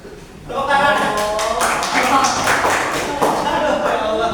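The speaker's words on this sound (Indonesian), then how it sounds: "Tepuk tangan." A school class of students claps hands in a quick burst during a classroom lesson, the rapid clapping mixed with children's voices calling out together, fairly loud and close.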